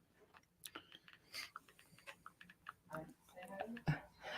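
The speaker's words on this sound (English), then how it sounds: "I shouldn't be typing and talking, and Dusty's like watching me type" Quiet keyboard typing, a loose run of soft clicks and taps with someone talking over them.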